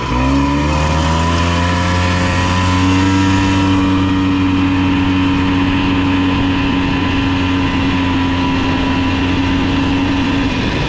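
A rare Polaris three-wheeler with a bent rear axle and wobbling tires runs fast, its engine droning loud and steady at high revs under constant wind rush from start to finish.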